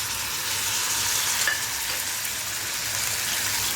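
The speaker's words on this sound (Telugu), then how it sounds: "ఆనియన్ పేస్ట్ వేసుకుందాం." Onion paste sizzles in hot oil for a prawn curry, a close, steady frying hiss with dense crackling, a small clink around the middle, and no talking.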